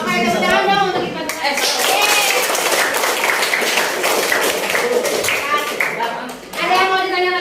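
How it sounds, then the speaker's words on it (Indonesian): A classroom of students clapping together during a maths lesson, a loud dense burst of hand claps close by, with children's voices and a teacher talking at the start and end. "tepuk tangan dong untuk Ipan."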